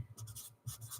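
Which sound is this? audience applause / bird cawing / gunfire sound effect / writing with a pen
writing with a pen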